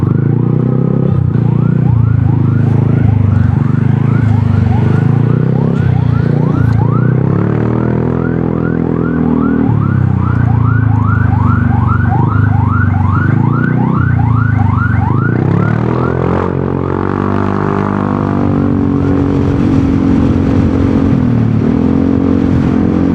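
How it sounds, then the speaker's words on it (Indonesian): Ambulance siren on a road in Indonesia, loud and close, with a rapid warbling wail over heavy traffic and engine rumble that shifts into a slower sweeping tone partway through. "Ada ambulans."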